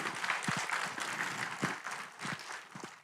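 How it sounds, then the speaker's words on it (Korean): Applause from Catholic priests at a mission day gathering in Incheon, a steady bed of scattered clapping lasting a few seconds with a few sharper claps standing out. "우리 신부님들 박수 한번 부탁드리겠습니다."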